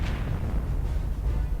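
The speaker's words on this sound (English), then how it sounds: "There's like explosions going on." Rumbling explosions in the Star Wars: Knights of the Old Republic video game, a dense, continuous low-end roar with no distinct individual blasts, steady and fairly loud throughout.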